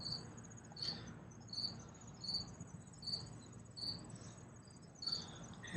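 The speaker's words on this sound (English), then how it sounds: "And there's crickets in here." Crickets chirp inside a display room of old fire trucks and fire helmets at an auto show museum in Murdo, South Dakota, giving a steady, close, high-pitched series of regular chirp bursts about every three-quarters of a second.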